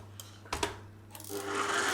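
Electric mixer whirring steadily as it beats three farm eggs and sugar for madeleine batter, a low motor hum with a brief clatter midway, then swelling into a louder, brighter churning.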